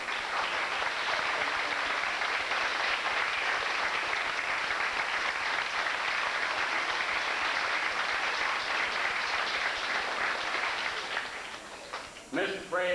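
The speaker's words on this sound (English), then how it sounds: "I'd like to call their names and have a round of applause." A sustained round of applause from the audience at a 1985 Millington Dolphins awards banquet, dense even clapping that holds steady before thinning out near the end, with no speech over it.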